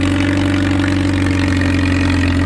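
Antique tractor engine pulling a plow on a field day, a loud, steady low throbbing drone with a heavy exhaust beat, running evenly and close for the whole stretch.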